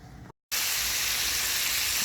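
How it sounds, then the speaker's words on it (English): Bacon ends fry in a pan on the stove, a close, steady hiss-and-crackle that cuts out briefly before returning at full strength. "I'm just fry up some bacon to go along with this."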